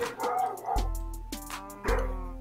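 Several dogs bark loudly outside in a yard, a few sharp barks in quick bursts with yips between them, close and clear with no talking.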